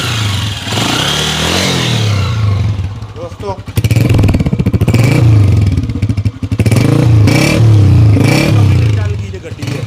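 A Honda CG 125 motorcycle with the engine close by, first settling at a rough idle, then revved hard in repeated loud, clattering bursts from about four seconds on, with someone speaking briefly over it.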